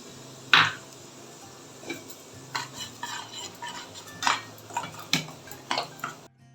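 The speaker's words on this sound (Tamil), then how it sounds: "இப்போ வந்து ரவையை இதில் சேர்த்துடலாம்." Semolina stirred in a pan during a sweet kesari preparation, with scattered scraping and clinking of a spoon against the metal pan over a faint sizzle, close up and without talk.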